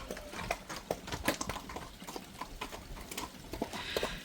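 Horse hooves clip-clopping at a steady walking rhythm along a village road in Mankinholes, Yorkshire, fairly close and moderately quiet, with faint background ambience.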